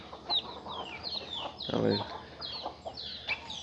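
A hen clucks repeatedly near a rooster in a backyard poultry flock, with short, bright, rising calls scattered throughout. A louder flurry comes in the middle, and someone briefly speaks over it.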